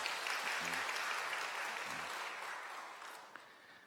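A church congregation at a Sunday service claps in welcome for a returning member, a steady, dense round of applause that fills the room and slowly fades toward the end.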